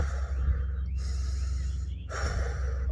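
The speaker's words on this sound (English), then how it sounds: "I want you to start to breathe almost like in a Lamaze type of way" Rapid Lamaze-style breathing is demonstrated, with two sharp, close breaths audible over low background hum.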